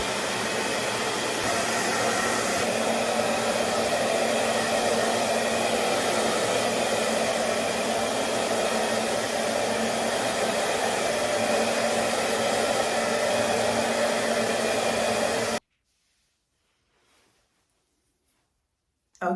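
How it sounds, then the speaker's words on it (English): Handheld hair dryer blowing steadily while drying hair, a loud, close, even whoosh that runs for about fifteen seconds and then cuts off to near silence. "I'm just gonna go all around my head and dry my hair."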